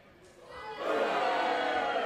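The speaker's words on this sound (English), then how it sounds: "Well, right now they're booing Skyler." A wrestling crowd rises from a low murmur into a loud, sustained roar of mixed booing and cheering that swells about a third of the way in and holds steady.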